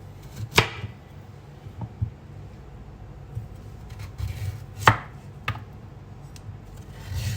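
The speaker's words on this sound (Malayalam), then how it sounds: "ഇനി നമുക്കിതൊന്ന് കട്ട് ചെയ്തിട്ട് എടുക്കാം." A kitchen knife cuts a carrot and a celery stalk on a board, giving a handful of sharp, irregular chops close up over a quiet background, with no talking.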